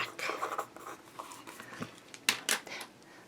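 A pencil scratches across the paper cover of a handmade glam rock mini album in quiet, close, short strokes, with a few sharper taps and scrapes toward the end.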